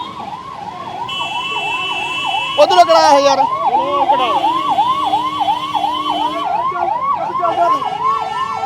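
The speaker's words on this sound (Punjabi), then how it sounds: "ਪਿੱਛੇ ਜਿਹੜੀ ਐਂਬੂਲੈਂਸ ਆ ਫਸੀ ਹੋਈ ਆ ਅੱਧਾ ਘੰਟੇ ਦੇ ਉੱਤੇ" An ambulance siren wails steadily up close in a city traffic jam in Ludhiana, looping its rising-falling tone under vehicle noise while people nearby shout and talk.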